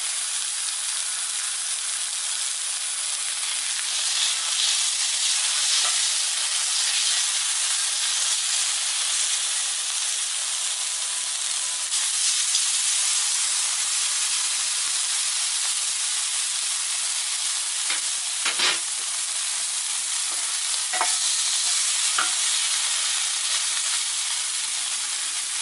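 Filet mignon steaks sear on a hot Blackstone griddle, a loud, steady, close-up sizzle hissing without a break, with a few sharp pops and ticks near the end.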